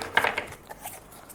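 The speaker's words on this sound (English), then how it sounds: "so I will shuffle again." Tarot cards being shuffled by hand, a quick burst of crisp riffling and flapping card sounds that fades into a few soft taps, close and quiet.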